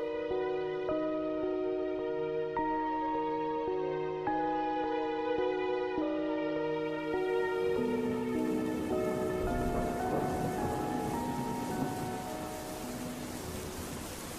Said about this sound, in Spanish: Ha empezado a llover.